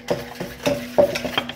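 Pandesal dough ingredients being mixed in a bowl, a few quick rhythmic stirring strokes with soft scraping knocks, close and brief.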